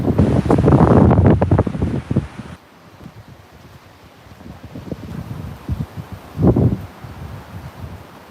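Strong wind from an approaching hurricane in Fort Myers buffets the microphone in loud roaring gusts, easing into a quieter rustle before another sharp gust surges and fades.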